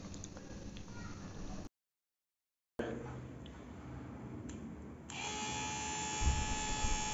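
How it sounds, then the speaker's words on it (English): A 775 DC motor running with no load on a 12 volt lead acid battery gives a steady electric whir that is cut by a short silence, then resumes and grows louder and brighter. "I'm giving a 12 volt supply to this motor from a lead acid battery."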